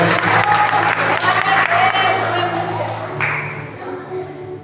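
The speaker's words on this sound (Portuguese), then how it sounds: "Então aplauda Jesus bem alegre nessa noite" A church congregation applauds with some cheering, loud and sustained, then tapering off toward the end.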